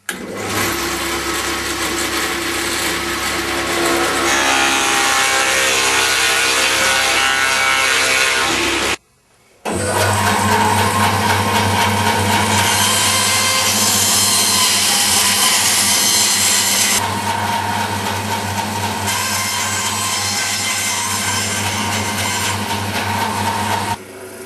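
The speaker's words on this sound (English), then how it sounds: "clamping the two together and then drilling a hole 20mm or 3/4 of an inch right on the joint between them" A power drill bores a 20 mm hole through two clamped pieces of wood at a luthier's bench, a loud continuous grinding whine that stops briefly near the middle and then carries on steadily to the end.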